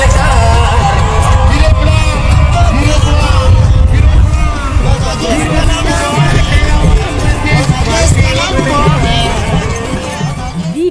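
A dense crowd cheers and yells as a head of state moves through the throng during a provincial visit, a loud continuous roar of voices and whoops with no pause.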